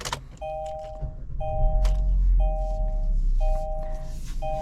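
A 2023 Kia Sportage LX 2.0P powered on inside the cabin: a repeating electronic chime sounds about five times in a steady rhythm, close and clear over a low idle rumble with faint mechanical clicks.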